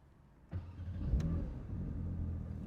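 A Porsche 911 992 GT3 RS engine cranks and fires up at close range, a sharp start followed by a low steady rumble that holds through to the end.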